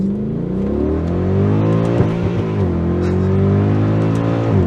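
A Mercedes W211 E63 AMG V8 with a secondary cat delete pulls hard from a standstill in first gear, a loud, deep, continuous engine roar rising in pitch with a brief stutter midway as the car bounces, heard from inside the cabin.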